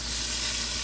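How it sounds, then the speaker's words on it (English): Frozen okra hits hot oil in a pot and sets off a loud, close, steady hiss of sizzling for under a second. "Okay, I put in the okra,"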